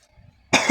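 After a brief near-silent moment, a single sharp, loud cough bursts out close by.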